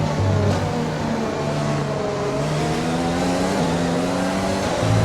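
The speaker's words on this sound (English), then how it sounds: "Off the throttle, back on the throttle." Formula 1 car engine in the F1 2020 video game, a loud continuous high-pitched whine that drops off as the throttle lifts and climbs again as it is reapplied, with no talk.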